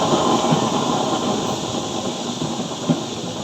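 A used-oil stove with a 32-hole burner roars with a steady, loud broadband flame that stays dense and even throughout, with no talk over it.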